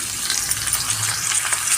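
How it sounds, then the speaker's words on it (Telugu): Chopped onions with curry leaves, followed by tomatoes, fry in hot oil in a pan while masala gobi is being cooked. The brief sizzle is close, loud and continuous, with a crackling texture. "కరివేపాకు వేసిన తర్వాత కట్ చేసినటువంటి ఆనియన్స్ ఫ్రై చేద్దామండి"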